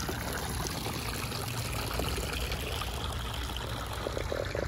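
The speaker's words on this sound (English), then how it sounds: "my old timey waterfall here, you know, fountain" Water trickles steadily from an old-fashioned decorative indoor waterfall fountain, a continuous close splashing and dribbling with no pauses and no talking.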